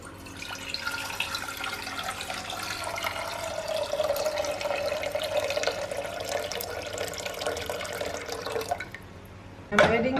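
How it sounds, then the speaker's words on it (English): Water pours steadily into a cooking pot for Naga-style dal for about nine seconds, a continuous close gush with a shifting resonant tone, followed by a short clatter at the end. "First, I'm going to pour the water."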